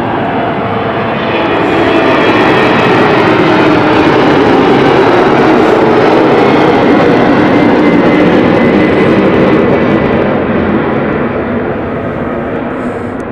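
A passenger jet takes off at London City Airport. Its engines roar loud and steady, building over the first seconds, holding at full power and fading slightly toward the end, with no voices.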